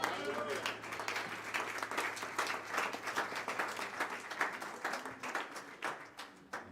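A church congregation applauds and cheers in praise of the Lord, a dense steady wash of clapping with voices mixed in that tapers off slightly toward the end.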